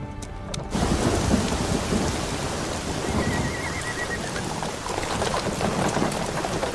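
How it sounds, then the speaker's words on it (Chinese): Thunderstorm with heavy, steady rain pouring down, a dense broadband wash that swells in after a brief quieter opening and stays loud, with a low rumble of thunder beneath it throughout. "好像天色阴下来了，似乎要下雨。"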